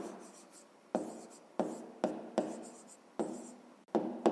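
Pen or pencil writing out a fifth-grade math solution by hand on paper, close and dry, with a steady scratching stroke broken into about seven bursts separated by short pauses.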